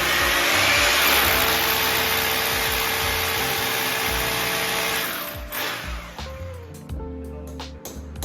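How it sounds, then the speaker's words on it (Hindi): A power drill bores holes into a wall for mounting a bamboo café-style fitting, a loud, steady whining hum running for several seconds before stopping, followed by a few fainter scrapes and clicks. "अब ड्रिल शुरू करते हैं।"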